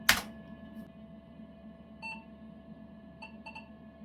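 A 486 PC emits short POST beeps after a memory test failure: a sharp click at the start, then a few faint, brief high tones over a steady low hum, sounding alone.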